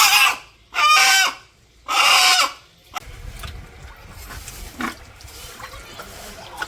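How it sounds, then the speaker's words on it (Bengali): A rooster caught from a village farm clucks in three loud bursts, followed by quieter scuffling and faint calls nearby. "তো এই যে মোরগটা ধরে নিয়ে আসলো"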